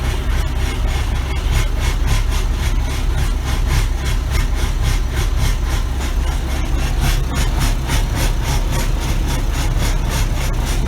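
A Massey Ferguson 1105 tractor's diesel engine idles after a cold start, a loud, steady, throbbing rumble with an even rhythmic knock that continues without a break and without talk.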